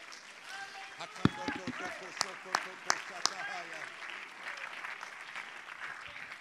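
A church congregation claps hands in praise, dense clapping with a few sharp, loud claps standing out early and voices mingled in.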